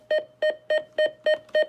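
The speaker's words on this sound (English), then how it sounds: "this radio has two types of button beeps. A high-pitched one and a low-pitched one." Six short, identical beeps from a Sima FirstAlert WX-150 weather radio's button, evenly spaced about a third of a second apart, clear and close with nothing else around them.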